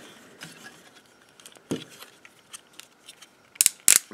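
A Fansproject Transformers toy is handled as its ratchet joint is moved, giving a scatter of small plastic clicks and taps, close and quiet, with a few sharper louder clicks at the end.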